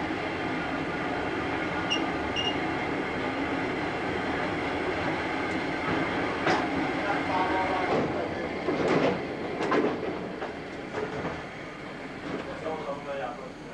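A MÁV class 733 Bo-Bo locomotive hauls a HÉV suburban train over Budapest rails, giving a steady, close rumble with rail clatter and squealing clicks around the middle, while voices murmur underneath.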